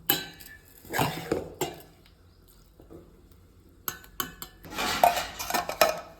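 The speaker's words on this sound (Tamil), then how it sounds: "இப்போ இதை ஒரு பாத்திரத்துக்கு மாற்றி வச்சிடலாம்." Cooked pumpkin being moved into another vessel, with scattered metal clinks of a spoon against pots and pans and a few scraping knocks, close and intermittent, with quiet gaps between.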